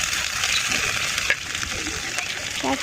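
Greens going into hot oil with garlic, onion and green chilies in a tiny pot on a miniature stove: a loud, steady sizzle close by, with a few light clinks and stirring scrapes.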